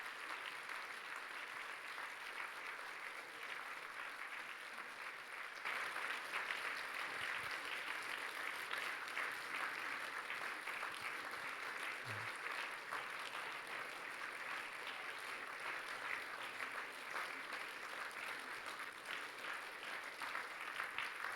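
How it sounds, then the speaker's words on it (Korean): Congregation at a church Christmas service applauding steadily and loudly for about twenty seconds, the clapping swelling slightly after the first few seconds and holding a dense, even texture with no talk. "박수 부탁합니다."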